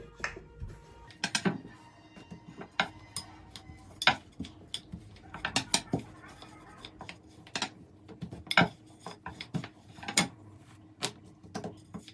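Dough dusted with a little flour rolled out on a work surface, with repeated short knocks and clatters of the rolling pin at irregular intervals, close and moderately loud, with no talking.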